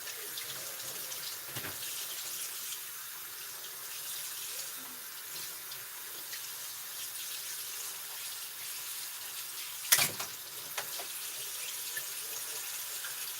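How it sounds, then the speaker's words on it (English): Tap water runs steadily into a sink while a large salmon fillet is rinsed, a continuous close hiss with a brief splash or knock partway through. "And then we want to rinse it real quick."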